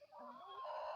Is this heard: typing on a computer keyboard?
no